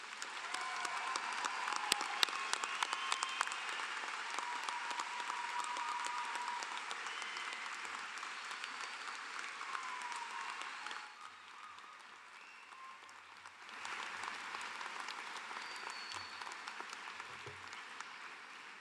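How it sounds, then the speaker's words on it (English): A large audience at a university convocation applauds the graduates for a long stretch, dense steady clapping that dips briefly near the end before picking back up. "Please join me in a round of applause for our graduates."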